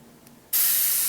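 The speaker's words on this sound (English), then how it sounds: "As soon as I press the trigger, I have paint and air coming out of the brush." A single action airbrush firing paint and air, a sudden loud steady hiss that snaps on after a quiet moment and holds at full strength.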